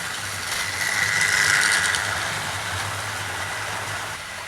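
A Maunsell steam locomotive passing by, a steady rumbling roar with rattling wagons and a broad hiss that swells slightly and then holds, fairly close, with no talk.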